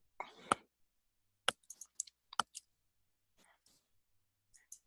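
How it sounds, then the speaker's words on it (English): Sparse computer keyboard typing, a few separate clicks and short bursts of keystrokes with pauses between, close and fairly quiet in a silent room. "I'm going to type in some other random areas"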